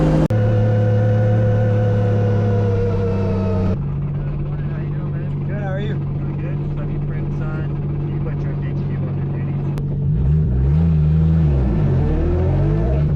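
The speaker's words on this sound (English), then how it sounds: "Enjoy some drifting." A drift car's engine droning loud and close inside the cabin, holding steady tones, then rising and falling in revs near the end, with talk over it.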